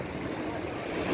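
Waves washing on the seashore at Turtle Beach, Karachi, a brief steady wash of surf with wind noise buffeting the microphone, swelling slightly at the end.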